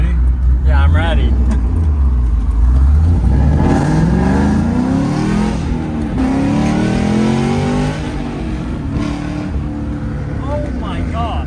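A 600 horsepower LS-swapped Volvo 244 accelerates hard, its V8 roaring loud and close as the pitch climbs through rising gear sweeps, with people talking and exclaiming over the engine.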